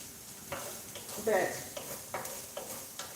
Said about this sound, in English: it's when you're cooking red onions as opposed to white onions or yellow onions